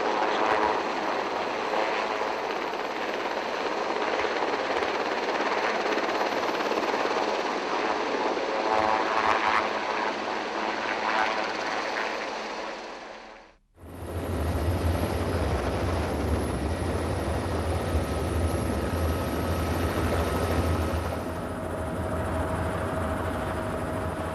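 A steady, loud helicopter rotor and turbine roar in Farming Simulator 22 helicopter logging, continuous throughout, with a brief dip in the middle before the roar resumes just as strong.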